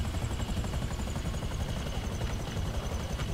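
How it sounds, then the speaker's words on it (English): Helicopter flying in GTA 5 Online: a steady, loud rotor chop and engine roar fill the whole stretch, close and continuous with no talk. "I hope I don't crash the helicopter."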